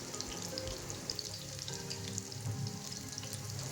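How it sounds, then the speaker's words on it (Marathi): Soybean chunks frying in oil in a pan, giving a dense, close crackling sizzle that holds steady throughout with a few brief stirring scrapes. "सोयाबीन तेलामध्ये चांगली भाजत आहे"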